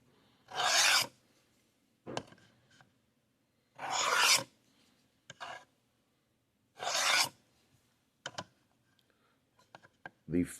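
Knife blade strokes on Work Sharp guided sharpening stones make steady rasping passes in short bursts with pauses between them, mixed with faint clicks and light handling noises.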